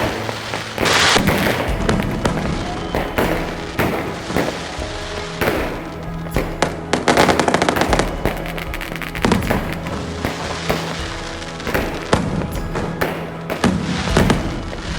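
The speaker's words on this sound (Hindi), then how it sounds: "भगत ने भैया 10 लाख रुपया की आतिशबाजी करवाई है" Fireworks crackle and boom throughout a Radha Rani birth festival in Barsana, with dense bursts and sharp firecracker pops recurring loudly over a steady crowd background.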